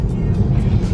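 A self-driving car climbs an arena ramp with a loud, close low engine rumble that holds steady through a brief stretch.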